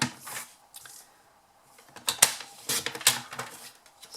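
Scissors snip through coloured card for a gift box in a quick series of crisp, close cuts and rustles, with short pauses between bursts.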